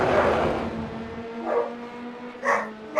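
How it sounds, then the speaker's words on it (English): Dogs quarrel over a toy with a handful of loud, separated barks, the first near the start and the rest closer together at the end, over a faint engine hum. "Uh-oh, dog dispute. Dog fight."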